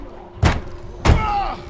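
A door slams twice in quick succession in The Walking Dead video game, two loud, close thuds about half a second apart, with faint background sound after the second.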